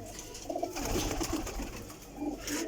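Soft, low cooing of pigeons, a few brief calls rising over a faint background hum.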